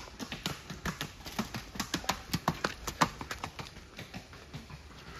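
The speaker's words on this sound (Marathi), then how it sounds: "घोड्यांच्या रस्त्याने चालल्या होत्या सगळ्याकडे घोडं." Horse hooves clip-clopping along the muddy forest horse path at Matheran hill station, a steady run of sharp close taps in quick irregular rhythm, moderately faint, with no talk.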